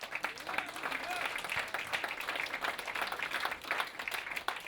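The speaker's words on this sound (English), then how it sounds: "Applaud for that." Audience applause at a book launch in Hudson, NY, a dense, steady wash of clapping that holds for the whole stretch with a few scattered voices underneath.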